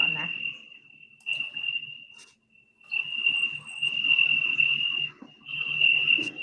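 Recorded cricket chirping played back on a livestream, a steady high trill that drops out briefly midway and resumes, with faint background voices and noise beneath.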